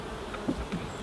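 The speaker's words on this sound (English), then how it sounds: "All them bees under there are quite safe there." Honey bees from a swarm buzz faintly around an open beehive, a soft steady insect drone with a couple of brief louder passes near the middle, heard alone.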